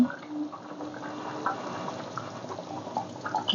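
Chicken curry with ghee simmering in a pot, a steady low bubbling and soft popping close by, with occasional louder blips over a constant wet hiss.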